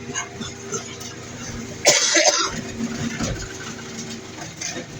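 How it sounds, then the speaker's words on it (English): A single wet, congested cough from an adult with a week-old snotty cough, close and loud, followed by a rumbling engine idling steadily in the background. "I've had a snotty cough for about a week"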